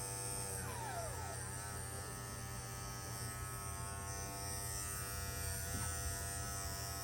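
Electric clippers buzz steadily while trimming a schnauzer puppy's fur during a grooming haircut, a continuous close motor drone with a strong hum and no talking.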